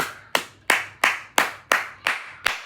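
Seven sharp, evenly spaced hand claps ring out one after another, each crisp and close, with a short decay and near silence between them.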